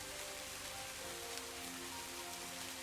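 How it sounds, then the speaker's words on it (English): Rain falling on a night, a faint, even hiss of drops, steady and unbroken with no voices. "I love the sound of the rain and the way it feels when it falls on my skin."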